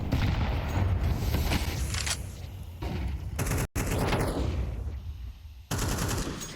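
Rapid gunfire in a Counter-Strike match, where an AWP sniper rifle is in play, fills the clip. Dense, loud bursts run almost continuously and drop out briefly near the middle and again toward the end.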